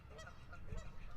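Geese honk in a brief, faint burst of overlapping calls outdoors.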